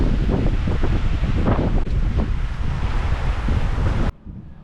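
Strong wind roaring across the microphone at a sailboat anchorage with high current, a loud continuous buffeting rush with surf-like wash that cuts off abruptly to near quiet just before the end.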